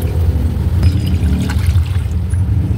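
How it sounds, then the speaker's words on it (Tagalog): Two glasses of water poured into a soup pot for milkfish sinigang, a steady splashing trickle lasting a couple of seconds, close and fairly loud. "Maglalagay lang tayo guys ng 2 basong tubig"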